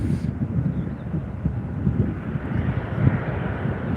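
A Jet2 airliner arriving from Malaga at Newcastle Airport, landing toward runway 07 in a northerly wind, gives a steady low, distant rumble that is mixed with wind noise throughout.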